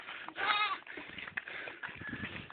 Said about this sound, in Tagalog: Kita yung kambing, oh.